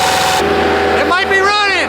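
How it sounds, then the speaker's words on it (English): A rusty-fueled Bobcat engine cranks and catches, a loud chugging turnover giving way to a rough firing start, with a voice cutting in near the end. "It started. Go ahead, crank it again."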